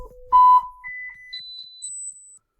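Computer-generated electronic beeps from a program play in sequence, each a clean pure tone stepping higher in pitch, a handful of short bleeps alone with no talking.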